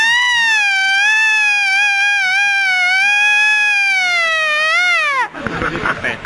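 A voice imitates a wailing fire engine siren, a sustained high rising-and-falling tone held for about five seconds before breaking off into noise.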